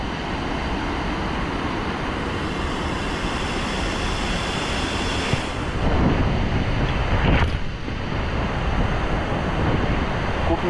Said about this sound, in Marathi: हा आहे झोलसोंड वॉटरफॉलचा वरचा भाग आणि इथं ही सगळी नदी इथं येऊन खाली पडते पूर्णपणे